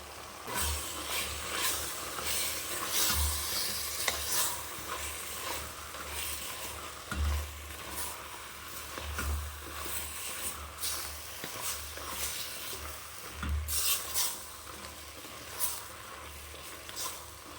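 Mushrooms frying in a pan for biryani, a continuous crackling sizzle with intermittent spatula stirring and low knocks against the pan at irregular intervals.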